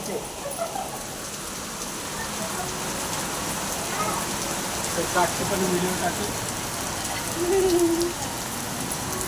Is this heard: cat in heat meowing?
no